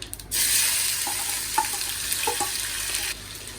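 A sudden loud sizzle erupts as chopped tomato hits hot oil, hissing steadily for a few seconds with a couple of soft clinks before cutting off.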